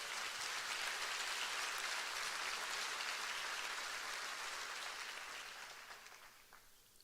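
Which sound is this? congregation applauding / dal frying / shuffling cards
congregation applauding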